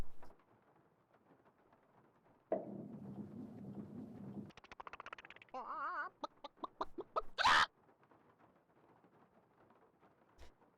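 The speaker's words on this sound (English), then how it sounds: "Chicken!" Cartoonish clucking and squawking from a chicken in a video game, with short bursty calls and a sharp loud squawk near the middle, set among game effects and a low rumbling background.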